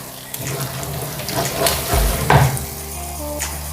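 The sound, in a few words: potato and spinach curry being sautéed in a pan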